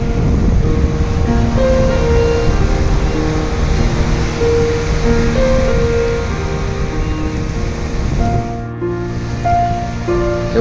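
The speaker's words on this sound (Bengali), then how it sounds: "আর এই হলো সমুদ্র অর্থাৎ বঙ্গোপসাগর" Surf washes steadily onto the sea beach at Henry Island on the Bay of Bengal, a loud continuous roar with sustained tonal hums layered over it and a brief dip near the end.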